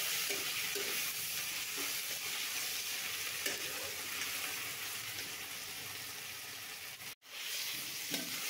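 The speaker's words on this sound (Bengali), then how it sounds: "সাথে দিয়ে দেব 1 চামচ আদা রসুন বাটা। এবার ভালোভাবে কষিয়ে নেব।" Dried prawn frying with chopped onion, green chilli and ginger-garlic paste in a pan gives a steady, close sizzle with occasional stirring scrapes, and a brief dropout near the end before the frying resumes.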